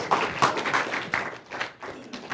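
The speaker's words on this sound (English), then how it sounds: "So if you'd give him a round of applause" An audience at a CAD workshop session claps for a speaker, a short burst of dense, busy hand claps heard close up that fades slightly toward the end.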